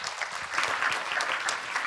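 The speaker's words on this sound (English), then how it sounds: "please give a round of applause to our panelists" Conference attendees clap for the panelists after an environmental session, a brief, steady patter of applause from a modest audience, moderately close and unaccompanied by speech.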